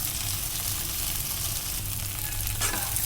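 Okra slices fry in a pan for a masala curry, giving a steady close sizzle with soft stirring scrapes and a brief louder clatter near the end.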